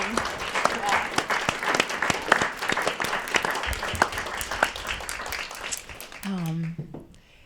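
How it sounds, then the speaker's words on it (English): A concert audience at a classical music presentation gives a quick round of applause, dense clapping filling most of the stretch before fading out near the end as a voice begins. "this really felt like an ending that maybe deserves a quick round of applause"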